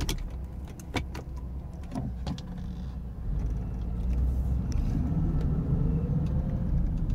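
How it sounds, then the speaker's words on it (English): A 1985 Jaguar XJ6 with 54,000 miles drives around a block, its engine and road rumble building from a low steady hum to a louder, fuller sound, with a few light clicks and jangles inside the cabin. "Take it for a fast drive around the block. Which drives beautifully. The car's nice, quiet."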